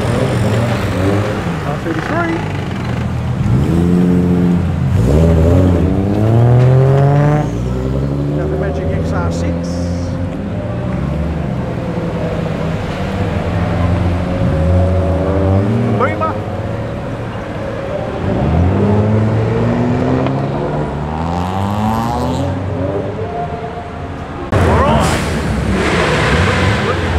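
Fast cars revving their engines as they leave a car show at Homebush, Sydney, with loud engine roars rising and falling over about half a minute amid a crowd of people talking.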